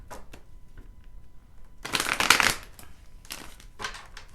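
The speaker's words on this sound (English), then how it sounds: "Let me shuffle these really good" Cards being shuffled: a few light riffles, then a loud, dense burst of rapid flicking, followed by quieter shuffling bursts. No talking.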